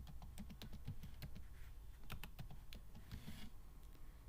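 Steady keystrokes on a computer keyboard, typing in a brief burst of close, fairly quiet clicks with short pauses, no voices over them.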